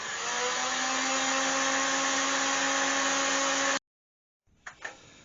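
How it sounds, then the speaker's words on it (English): A hot air gun dries black stain on a wooden bowl: a loud, steady blowing roar with a fan whine runs for several seconds, then cuts off abruptly, followed by a brief soft handling rustle. "you can now put it on its way with a hot air gun"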